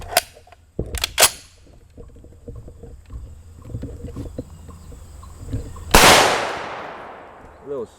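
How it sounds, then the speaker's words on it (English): Armor-piercing 7.62x51mm NATO black-tip rounds fired at an AR500 Level III+ steel armor plate: several sharp, loud outdoor gunshots with ringing impacts early on, then a heavy blast and a long fading rumble. "We'll throw another 2 rounds on the right hand side of the plate."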